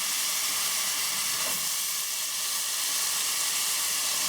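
Tomatoes and mushrooms sizzle and fry in a pan, a steady broadband hiss running continuously and close throughout with no talking.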